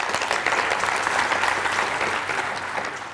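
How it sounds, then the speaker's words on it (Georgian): Steady, dense applause from a studio audience for a quiz contestant on a television book quiz show, loud and continuous for a few seconds without talk. "აპლოდისმენტები მას"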